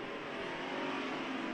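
Hobby stock race cars drive hard into turns three and four on a short oval, engines revving in a sustained, somewhat distant drone that swells slightly, with no talk.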